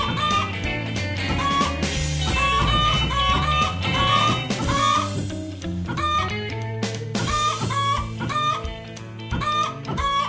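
Chickens cluck in the video game Tasty Planet: Final Bite, repeated clucks and squawks running steadily over loud, busy game music without pause.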